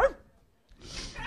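A person's voice imitates a dog barking during a guessing game on a Greek game show, giving one sharp bark-like yelp followed after a pause by a longer, breathy, rough vocal burst.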